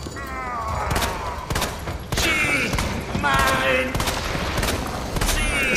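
Gunfire in a monster fight in Resident Evil 2 on PS4, with repeated sharp shots over dense game sound effects and creaking, screeching noises, loud and continuous throughout.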